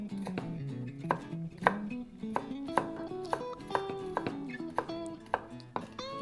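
A knife slices garlic on a cutting board in steady, evenly spaced strokes, each a crisp close tap, played fairly quietly over a faint tonal background.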